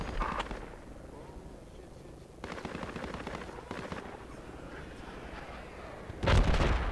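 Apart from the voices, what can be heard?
mortar explosions from the video game Project Reality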